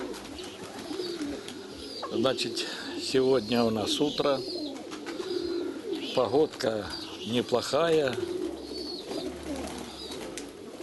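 Domestic pigeons at a pigeon keeper's loft on a morning, cooing repeatedly up close in short throaty bursts, while someone talks over them.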